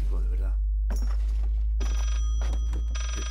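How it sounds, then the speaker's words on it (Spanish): In the horror game Layers of Fear, an old telephone bell rings in two bursts, with a person talking around and between the rings over a steady low hum. "Ya el telefonito me está tocando"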